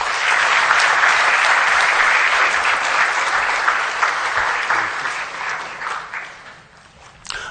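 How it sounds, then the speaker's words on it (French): An audience at the closing ceremony of a West African artisanal mining conference gives a minister sustained, loud applause after his closing speech, steady dense clapping that thins and fades toward the end. "On applaudit encore Monsieur le ministre pour son discours de clôture"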